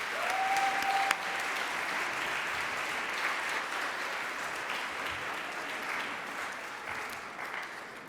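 Sustained applause from a large audience for award winners at a Quebec student entrepreneurship gala in Montreal, a dense, even clapping that holds steady and tapers slightly toward the end.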